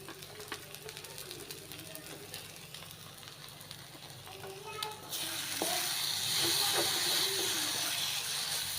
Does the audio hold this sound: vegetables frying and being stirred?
yes